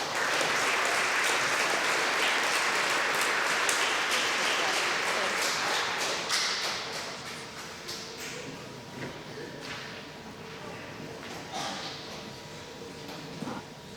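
A crowd at a school DARE graduation claps loudly for the students, then the clapping thins into scattered claps as voices murmur.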